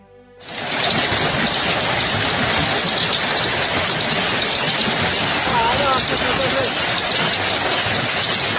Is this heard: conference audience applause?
no